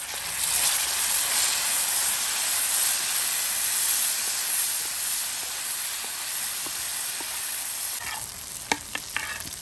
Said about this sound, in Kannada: ಈಗ ಎಣ್ಣೆ ಕಾದಿದೆ. ಸ್ವಲ್ಪ ಕರಿಬೇವಿನ ಸೊಪ್ಪು ಹಾಕ್ತಾ ಇದ್ದೀನಿ.